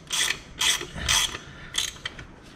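A wrench ratcheting on a rear axle bolt of a Suzuki GS500F motorcycle, four or five close, distinct metallic clicking bursts in quick rhythm, heard alone without talk.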